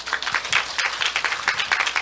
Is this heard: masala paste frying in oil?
no